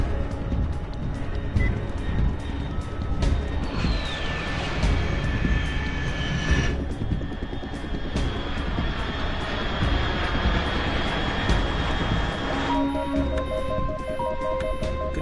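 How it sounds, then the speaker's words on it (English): Steady roar of an aircraft engine passing overhead in Metal Gear Solid 3, loud and continuous for about fifteen seconds, with a high whine sweeping across partway through and tonal game sounds entering near the end, no voices. "Unidentified aircraft detected."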